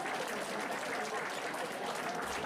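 Steady applause from a crowd at a Saint Valentine's Day 2013 town celebration, a dense continuous patter of clapping filling the whole moment at moderate level.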